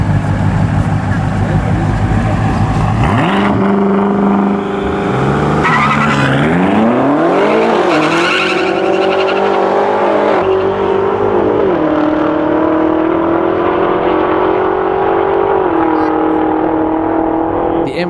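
BMW M5 cars drag racing, engines revving hard and rising through gear shifts with tires squealing and skidding at launch, loud and close, with a voice talking over the run.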